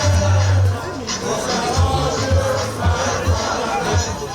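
A huge crowd at an NLC labour protest at the Unity Fountain in Abuja, a loud mass of voices with chanting and babble, steady and close throughout.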